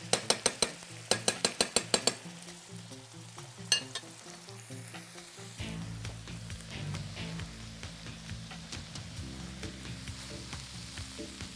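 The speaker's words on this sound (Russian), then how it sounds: "Вот лучок опять жарится." Chopped onions fry in a pan with mushrooms, a soft steady sizzle that follows a burst of quick metallic taps of a utensil on the pan, with occasional scraping from stirring.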